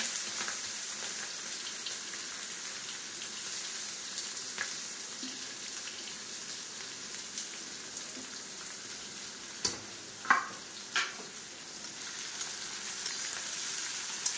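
Onions fry in hot oil for curry chicken, a steady, moderately loud sizzle throughout, broken by a few sharp ticks and clatters of a utensil near the end.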